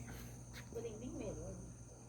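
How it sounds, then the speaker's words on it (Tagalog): Crickets chirp steadily in a quiet evening setting in Tagaytay, a faint continuous high trill under low background hum, with a voice briefly speaking nearby. "Ayan, meron pala kuliglig."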